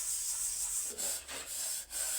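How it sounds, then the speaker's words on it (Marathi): Hand scrubbing of household dishes at home: continuous close rubbing and scouring with a few brief breaks in the stroke. The sound is moderately loud and heard on its own, without speech. "आता भांडे घासल्याशिवाय नाही पाजत बाई पाणी त्याला."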